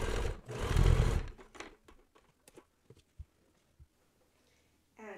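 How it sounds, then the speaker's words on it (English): A sewing machine stitches a bodice to a skirt on a zebra dress made from a sheet, a brief close whirring run followed by scattered light clicks and taps, then a short resumed burst. "Now I just need to sew the bodice and the skirt together."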